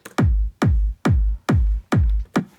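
Six punchy electronic kick drums with a layered top kick brightened at 3000 and 6000 Hertz, each a deep booming thump with a crisp click, evenly spaced in a steady four-on-the-floor rhythm for big room techno, loud with no voices.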